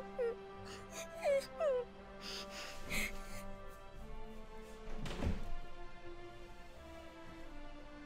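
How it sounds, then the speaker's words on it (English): A puppy in the video game Dragon Quest XI gives a few short, rising whimpers near the start, followed by softer in-game sounds and thuds. "I hear a puppy."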